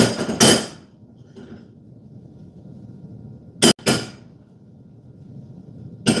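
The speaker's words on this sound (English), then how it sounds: "this is probably going to get noisy if I'm shaking the pan" A skillet of cornbread batter being shaken gives a few sharp, loud metallic knocks and rattles, one early and a close pair later, separated by quiet stretches.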